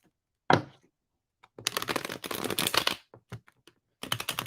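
New tarot cards, stiff and sticking, are shuffled by hand in a quiet room, giving crisp bursts of riffling and flicking between pauses, close and fairly loud with no talking.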